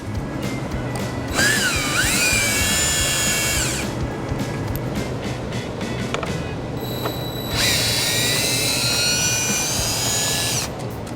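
Power drill backing out screws from the bumper fascia of a 2016 Ford Escape, two distinct whirring bursts of about two and three seconds each with a short pause between, close and loud over workshop background.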